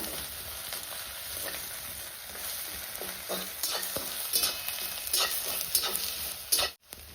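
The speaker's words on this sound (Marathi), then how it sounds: "लसूण, आलं, कोथिंबीरीचं वाटण बनवलेलं टाकून घेते। तेलामध्ये छान परतून घ्यायचे।" Quiet, continuous sizzling of a garlic, ginger and coriander paste frying in oil, with soft scraping stirs now and then and a brief clatter near the end.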